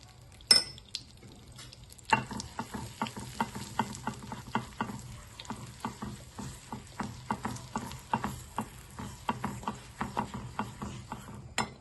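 Red pepper powder sizzles in hot oil in a pan while a utensil stirs it, giving a steady bed of frying hiss broken by repeated light metallic clinks and scrapes at a quick, regular rhythm.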